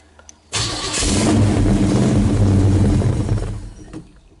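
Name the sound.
1969 Chevelle engine cranking, failing to start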